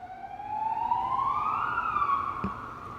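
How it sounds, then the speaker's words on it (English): A siren wails steadily, its tone sliding upward then dipping, loud and fairly close, with a brief thump near the end. "Weird sirens."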